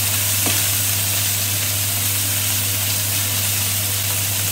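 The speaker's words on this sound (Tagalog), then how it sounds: "depends how many minutes you fry the chicken" Chicken frying for paella crackles as an even, dense sizzle that holds steady over a low hum, close and uninterrupted, with no voices.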